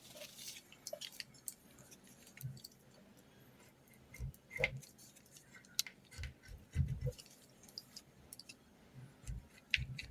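A tracing wheel rolls over fabric while a bustier dress pattern is transferred, giving faint, scattered clicking and soft ticking textures with a few louder bumps, close by and quiet, with no talking.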